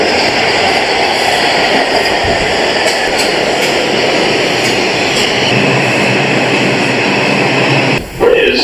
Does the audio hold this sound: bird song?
no